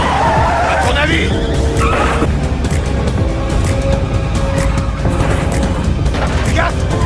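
A car races and skids through a chase, loud continuous engine and tire noise with sharp bangs, under frantic shouted voices.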